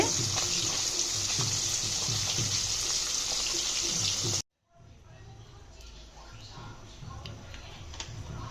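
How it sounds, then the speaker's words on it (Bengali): Loud, bright sizzling of fish frying in oil, abruptly cutting off, then quieter crackling returns and slowly builds. "এখানে মাছও ভাজা হচ্ছে"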